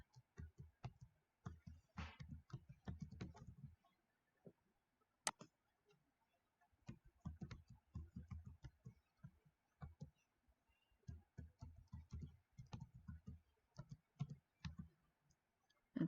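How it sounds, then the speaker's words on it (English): Login credentials being typed on a computer keyboard: quiet, close, irregular bursts of light key clicks separated by short pauses, with one sharper tap partway through. "Let's hope I typed that correctly."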